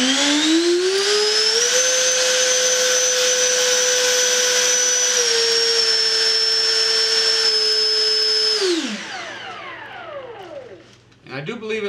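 A 12-blade electric ducted fan in an RC jet model, a DuraFly Vampire converted to a DH-110 Venom, whines loudly and steadily, rises in pitch, holds for several seconds, then spools down with a falling whine.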